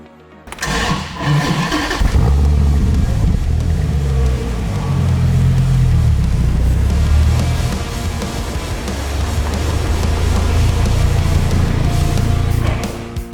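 A 2008 Dodge Viper SRT-10 on the road fires up and pulls hard, its deep engine roar swelling loud and steady, easing briefly mid-run before building again to another strong surge, with no talking.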